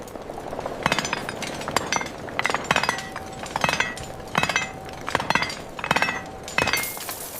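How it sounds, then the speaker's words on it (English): Strikes of a chisel on silver metal in an ancient Athenian mint making drachma coins ring out as sharp, bright metallic taps, repeated in irregular clusters over a low background hum, close and fairly loud, with no speech. "Feel the metal yield to the chisel."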